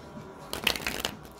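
Tarot cards are shuffled in a brief, soft burst of papery riffling, close up and moderately quiet, lasting under a second against a hushed background.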